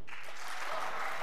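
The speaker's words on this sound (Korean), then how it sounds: "남자들 박수." Men in a church congregation clap together in a brief burst of applause, a dense wash of hand claps that swells and fades over about a second, fairly quiet and without talk.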